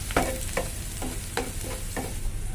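Sliced onion and potato fry in oil for a Spanish omelette, a steady close sizzle punctuated by about six regular spatula scrapes against the pan, with no voices.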